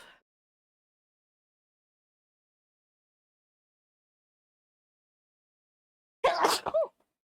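A single sharp sneeze bursts out after several seconds of near silence, close and brief.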